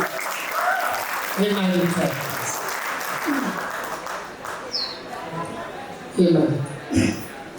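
An audience applauds at a school welcome and farewell programme, a steady broadband wash of clapping that runs the whole length, with voices and shouts rising above it near the end.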